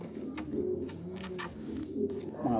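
Pigeons coo in soft, low, repeated rolling calls, several overlapping at close range, with a few brief higher chirps.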